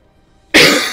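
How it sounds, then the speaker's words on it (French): A single sharp, loud cough bursts out close to the microphone after a moment of near silence. "je vais déjà tousser pour ce premier épisode"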